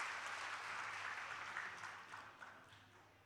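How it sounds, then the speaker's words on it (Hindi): Thunderous welcoming applause at a poetry gathering summit with poet Jahaz Deobandi, a dense, continuous roar of many clapping hands heard faintly and at a distance, slowly fading out. "और एक बार जोरदार तालियां दिलीप साहब के लिए बजा दिए गए"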